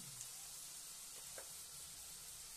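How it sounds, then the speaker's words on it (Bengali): Fish curry gravy simmering in a pan gives a faint, steady bubbling hiss with a few soft pops, low and continuous throughout. "ঝোলটা প্রায় ফুটে গেছে"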